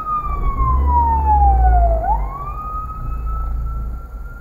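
Fire engine siren wailing loudly along a road near Ploiești, pitch sweeping down then jumping back up, with a deep engine rumble underneath and no talk.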